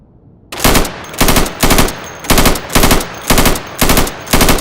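Rifle fire at plywood-shielded targets in the video game Insurgency: after a brief quiet start, eight loud, evenly spaced bursts of shots ring out in a steady rhythm, with no talk.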